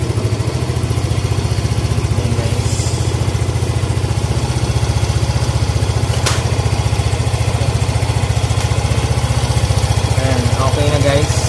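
A motorcycle engine runs steadily after a starter trigger test, a loud, close, even mechanical throb with no breaks, while someone talks faintly over it.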